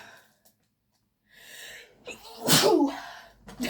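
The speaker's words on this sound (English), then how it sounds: "I'm gonna sneeze" A single sharp sneeze from a person, preceded by a quick sharp inhale and followed by brief breathy noise, close and clear in a quiet room.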